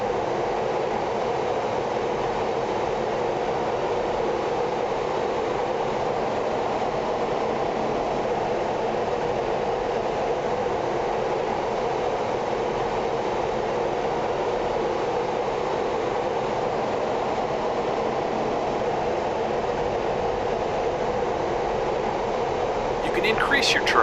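An F-15E Strike Eagle taxis in the DCS World flight simulator, a steady low jet engine rumble and hiss running unbroken throughout at moderate level.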